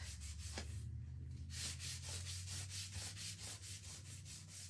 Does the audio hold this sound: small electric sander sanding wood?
yes